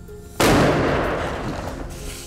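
A single muzzleloader rifle shot fired at a 100-yard target in sub-zero Iowa winter, one sudden loud close blast followed by a long rolling echo that slowly fades.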